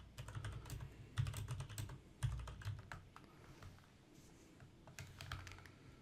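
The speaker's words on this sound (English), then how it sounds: "let's type in our description, which is enter the category of the item." Quiet, close computer keyboard typing in quick bursts of clicks, pausing briefly near the middle before a final flurry, with no talking.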